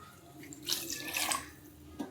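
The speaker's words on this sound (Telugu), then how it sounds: "వాటర్ వేసుకోవాలి ఇందులో" Water poured into a pan of paya curry with fried spices, green chilies and wheat flour, a short close splashing pour rising and fading within two seconds.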